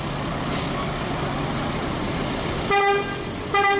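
A passenger bus pulls out of a bus terminal in Padang Panjang amid a busy roadside din, with engine rumble throughout and two loud horn toots near the end.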